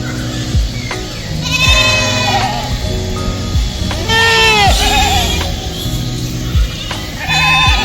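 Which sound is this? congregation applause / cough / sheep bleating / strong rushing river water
sheep bleating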